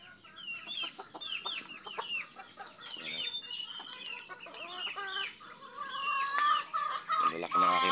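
Native chickens cluck steadily in a farmyard, several birds overlapping in a busy chatter of short calls that grows louder and more insistent toward the end.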